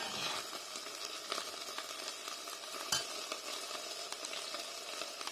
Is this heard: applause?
no